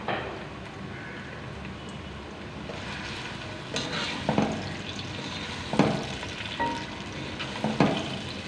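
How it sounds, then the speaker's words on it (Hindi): Medium onions fry in hot oil for a chicken and peas salan, a soft steady sizzle broken by several louder scraping stirs against the pan. "तो जी यहाँ पे ऑयल हमारा गर्म हो चुका है। अब प्याज डालेंगे।"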